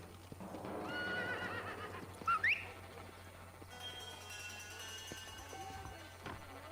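A horse whinnies with a rising neigh in Red Dead Redemption, with hoofbeats clip-clopping nearby over open outdoor ambience.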